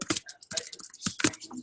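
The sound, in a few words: typing on a computer keyboard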